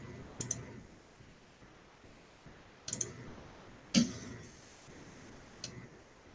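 Computer mouse clicking at a desk, four or five sharp isolated clicks spaced about a second apart over a quiet background.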